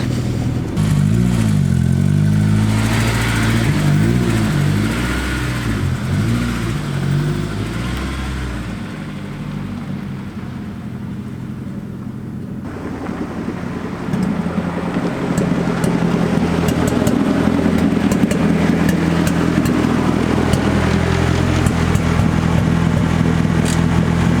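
A Honda S2000's engine runs close by as the car is moved, a steady low rumble that dips in the middle and then swells again louder.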